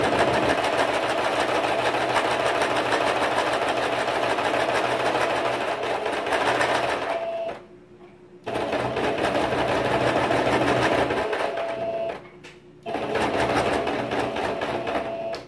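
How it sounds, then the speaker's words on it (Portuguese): A home sewing machine stitching with an irregular stitch runs in fast, loud, even bursts, stopping briefly twice before starting again. "Tô achando que a minha máquina tá com um ponto irregulado."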